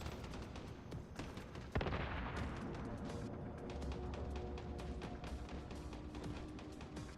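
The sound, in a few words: shotgun shots, from video game Once Human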